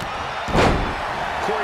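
In WWE 2K22, a wrestler gets knocked down onto the mat during a battle royal, landing as a single heavy slam in the middle, with commentary voices around it.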